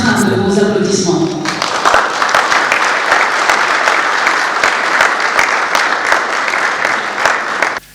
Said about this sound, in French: sous l'entrain de vos applaudissements